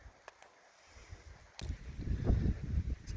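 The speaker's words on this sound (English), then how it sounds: "it's windy." Wind gusts buffet the microphone on an upland hiking trail, a low rumbling roar rising from near-quiet and growing stronger. No one speaks.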